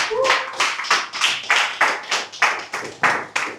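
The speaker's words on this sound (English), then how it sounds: "Please keep clapping, keep clapping," Audience members at a business presentation keep clapping in a steady, fairly rhythmic beat. Sharp, close hand claps land roughly every third of a second, and a brief voice is heard at the very start.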